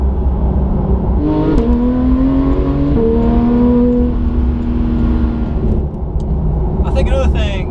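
A Porsche GT3 road car engine revs hard while driving, climbing through gear changes with rising whine and loud exhaust roar, under a person talking.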